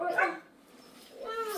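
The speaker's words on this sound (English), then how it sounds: "Good dog barking well, isn't he?" A dog barks a couple of times up close, a quick burst at the start and another near the end with a quieter pause between, heard outdoors while people are around.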